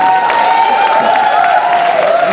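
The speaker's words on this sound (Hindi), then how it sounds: "राजीव ठाकुर के लिए जोरदार तालियां।" Loud, dense audience applause for comedian Rajiv Thakur at a comedy show in Delhi, sustained clapping close and full throughout with a faint tonal hum beneath.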